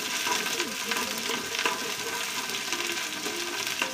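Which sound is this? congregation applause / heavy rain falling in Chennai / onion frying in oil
onion frying in oil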